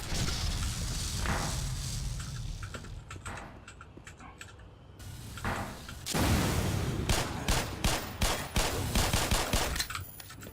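Gunfire from the first-person shooter Black Mesa, a remake of Half-Life, with sharp bursts of shots, loud and close, clustered in the second half amid busy game noise.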